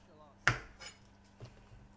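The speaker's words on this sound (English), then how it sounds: "I'm just going to chop them up really finely" A kitchen knife chopping shallots finely on a board gives one crisp, close knock followed by a couple of fainter taps in an otherwise quiet room.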